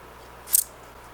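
A single crisp snip of scissors trims a corner of a sticky mount pad, close and sharp against a quiet room.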